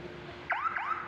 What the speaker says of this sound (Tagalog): Yan ang horn with passing light ng ating Honor type Jeep